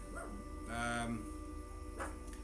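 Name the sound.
dog barking outside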